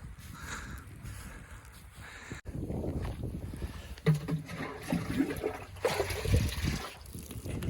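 Water splashes and gurgles steadily, as if poured or running onto plants outdoors, with rustling and handling noises mixed in.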